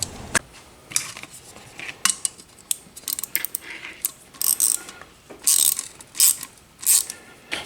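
Gear wrench ratcheting in short bursts of rapid clicks with pauses between strokes, close up, while fitting a replacement bathroom fan motor; no one speaks.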